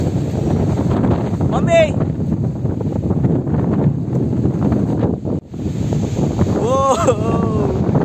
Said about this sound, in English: Strong winds are blowing right now.